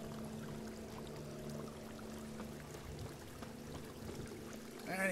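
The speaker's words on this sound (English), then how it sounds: "And it's raining again." Steady rain falls in The Witcher, a continuous watery wash with a low tonal hum beneath, ending in a brief louder swell.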